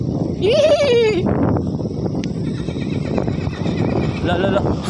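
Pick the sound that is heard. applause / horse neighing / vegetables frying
horse neighing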